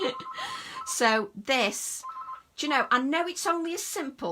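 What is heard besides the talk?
telephone ringing in the background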